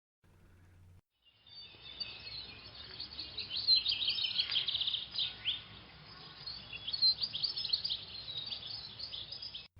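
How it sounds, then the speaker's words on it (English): Birds chirp and tweet on a morning outside open balcony doors, a faint, busy layer of high calls and trills running continuously after a brief low hum at the start. "Catherine woke up to the sound of birds chirping."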